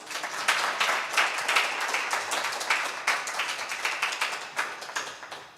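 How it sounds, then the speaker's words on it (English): Steady applause from a crowd, many hands clapping together in a dense, sustained patter at moderate distance. "a big round of applause"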